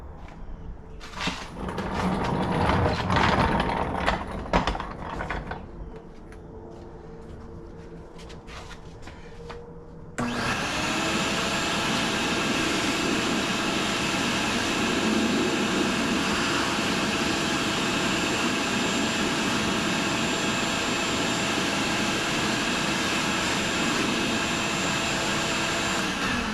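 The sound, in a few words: vacuum cleaner sucking out car cabin air intake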